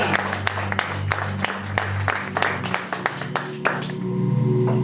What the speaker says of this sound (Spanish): Dar una fuerte palmas al Rey de Gloria.